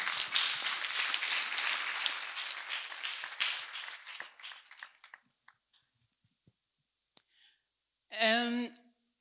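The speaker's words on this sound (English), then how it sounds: "Let us once again clap for Master Jesus." A church congregation claps, starting as dense, lively applause that thins into scattered individual claps and dies away, then a short burst of a voice or cheer rings out near the end.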